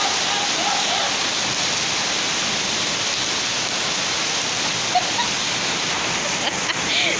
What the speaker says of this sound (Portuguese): a chuva tá saindo. Quanto mais sai, mais aumenta.